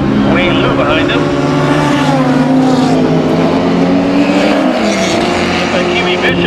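Closed-wheel race cars at Mission Raceway, including Acura and Honda imports and a Camaro, roaring continuously and loudly with shifting engine pitches as they pass, under steady race commentary.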